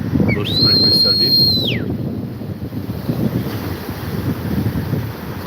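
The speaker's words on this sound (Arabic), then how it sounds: "بص مركب السردين" Wind buffets the microphone aboard a sardine fishing boat at sea, with waves rushing steadily beneath, while a brief high whistle-like tone rises and falls early on.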